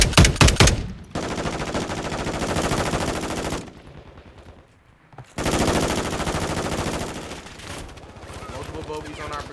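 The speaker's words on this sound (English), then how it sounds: "Firing at the enemy. Suppressing fire." Automatic gunfire rattles in the Call of Duty video game, rapid sustained bursts that stop briefly and resume, loud and dense, with a few distinct shots at the start.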